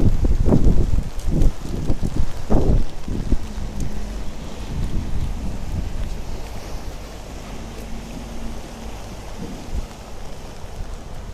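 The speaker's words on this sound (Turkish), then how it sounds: "Rüzgar da var." Gusty wind buffets the microphone over steady rain during flooding in Gölbaşı, Adıyaman, strongest at the start, then settling into a continuous rushing roar.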